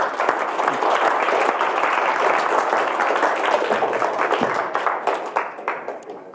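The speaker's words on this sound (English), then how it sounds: "A round of applause, that was well done." An audience at a talk on game AI breaks into full, dense applause that holds steady and then thins out, with individual claps becoming distinct as it tapers off near the end.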